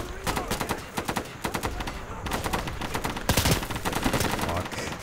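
Dense gunfire in the Insurgency video game, rapid overlapping rifle and machine-gun bursts crackling continuously and loudly throughout, with sharp individual cracks standing out over the din.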